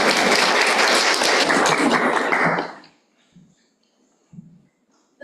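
Loud, dense applause from an audience at a school district board business meeting, steady for a couple of seconds then stopping abruptly, followed by near silence with a few faint thumps.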